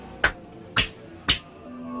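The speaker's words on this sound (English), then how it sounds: "Katie, said, "Mr. Splitfoot, do as I do," clapping her hands" Three sharp, separate hand claps ring out at an even, deliberate pace in a quiet room, each crisp and close, part of a dramatized spoken story.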